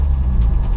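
A drift car at Rockingham for DriftCup 2018 revs hard during a brief burnout, a loud, low, rumbling engine roar sustained through the short moment, close up and without talk.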